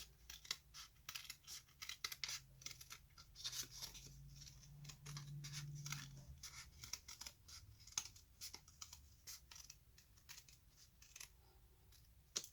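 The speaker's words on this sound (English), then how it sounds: "I'm using my paper snips." Paper snips cut printer paper along a template: a close run of quick, crisp snipping clicks in irregular bursts with brief pauses, quiet and without talk.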